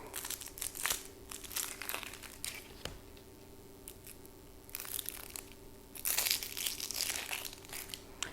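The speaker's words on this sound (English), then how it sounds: "So I have a couple of onions I'm going to cut up. I'm going to peel them." Onions being peeled by hand in a home kitchen, crisp papery crinkles and crackles of dry skin coming in short irregular bursts, close and fairly quiet with no talk.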